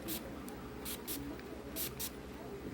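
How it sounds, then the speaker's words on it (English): Short hissing bursts of an aerosol spray, about six quick squirts of varying length, close and fairly quiet against a low background hum. "Give it a good spray and"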